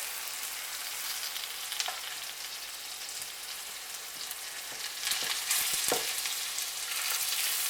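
Battered silverside frying in butter in a pan, a steady close sizzle and crackle that swells louder with sharper spits and pops toward the end.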